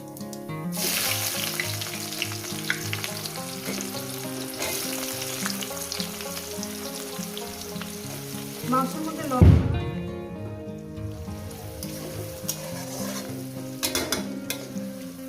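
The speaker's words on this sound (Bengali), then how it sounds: "জিরেটা আমার ভাজা হয়ে গেছে গরম হয়ে গেছিলো দিয়ে দেবো পেঁয়াজ" Hot oil with cumin seeds sizzles and crackles continuously, swelling into a louder hiss and spatter near the middle as onions go into the pan.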